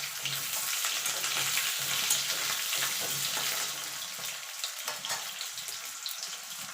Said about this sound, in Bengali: আলুগুলোকে ছেড়ে দিয়ে আলুগুলোকে একটু লাল লাল করে ভেজে নেব